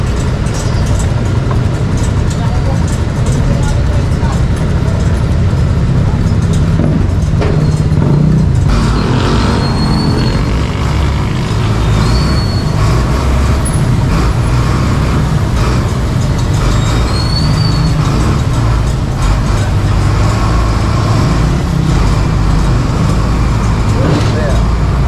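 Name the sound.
heavy road traffic with cars and buses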